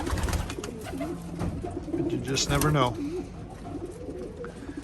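Racing pigeons coo in soft, throaty bursts close by, with a rising warble near the middle, while someone talks over the birds.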